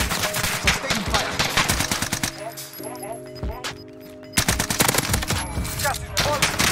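C58 rifle bursts in Call of Duty Warzone, loud rapid automatic shots in two dense stretches split by a quieter gap with game tones and clinks, with voices from the game mixed in.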